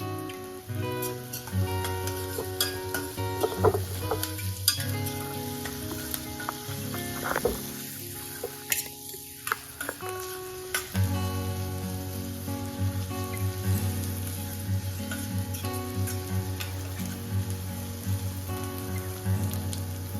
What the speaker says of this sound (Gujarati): હવે આપણે આ બધી વસ્તુને 1 થી 2 મિનિટ માટે બરાબર સાંતળી લઈશું